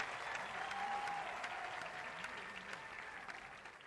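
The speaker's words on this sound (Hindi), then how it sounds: "जोरदार तालियां योगी जी के लिए और उत्तर प्रदेश के लिए हो जाए" An audience at a sports event launch ceremony in Uttar Pradesh applauds, a dense, fairly distant crowd clapping heard over a faint hum, fading slightly toward the end.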